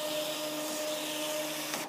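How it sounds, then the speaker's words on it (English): A thermal label printer on a factory floor prints a 2D barcode label. It gives a steady, close whirring buzz with a faint tonal whine that runs evenly throughout and ends in a brief click. "This thermal printer would be on the factory floor"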